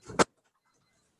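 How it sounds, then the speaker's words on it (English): A room door closes once nearby with a brief shove and a soft thud, then silence follows. "I have to close the door for the noise"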